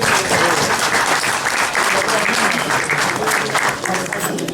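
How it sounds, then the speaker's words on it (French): Dense, steady applause from a crowd, loud and continuous throughout with no pauses. "on peut les applaudir pour les remercier."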